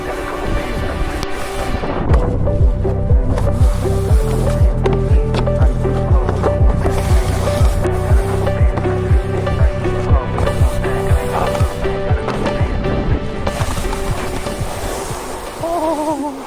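A snowboard rides down a Snowflex artificial ski slope, its base making a steady, loud scraping rush with rhythmic bumps and clatter at nearly even intervals, close to the microphone and mixed with wind noise.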